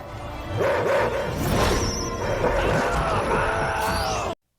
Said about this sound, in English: Hey puppies, what's up?